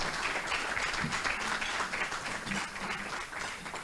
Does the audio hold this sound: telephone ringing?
no